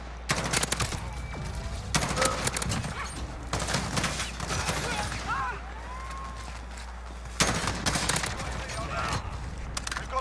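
Heavy shotgun slug blasts crack out in a Call of Duty Modern Warfare match, coming as a few loud separate bursts with rattling gunfire and game noise between them, while players talk over the action.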